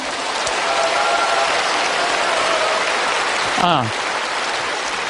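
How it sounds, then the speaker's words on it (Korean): Audience applause at a lecture by a Catholic priest: a sustained, hissing patter of many hands clapping at an even level, with a brief voice breaking in near the end. "이거는 제가 박수를 받아야 될 게 아니고"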